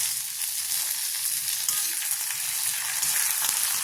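Curry leaves frying in hot oil with toasting dal for a fresh coconut chutney, a steady close crackling sizzle throughout with no voices.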